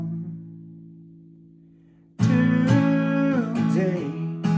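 Acoustic guitar strumming the chorus progression of a song, beginning with a faint sustained ringing chord that fades, then loud, steady strummed chords from about two seconds to the end.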